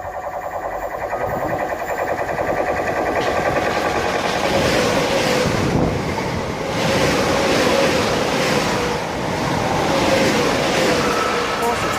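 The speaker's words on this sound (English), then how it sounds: "it sounds like it's coming through at quite good speed." A train rushes past at speed at Belvedere, a loud, continuous roar with wind-like rumble that holds steady for several seconds.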